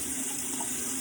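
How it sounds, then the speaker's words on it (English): Tap water runs in a steady, close, hissing stream over a hand in a sink, with no other sounds or voices. "I'm going to run this one under water, and I'm going to rub."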